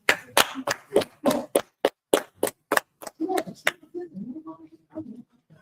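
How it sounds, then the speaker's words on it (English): A room of people claps in unison, about a dozen sharp loud claps in a steady rhythm that speed up slightly and then stop, followed by quieter voices talking. "All right, clap it up."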